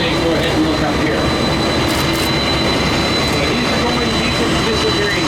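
Jet airliner taxiing in to a gate at Toronto Pearson airport, a loud continuous engine roar and whine filling the whole span, steady and close with no pauses.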